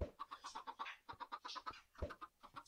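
Chickens cluck in the Minecraft video game, held in a chamber above a transposer, a quick run of soft, rhythmic clucks and bird calls, fairly faint, with no talking over them.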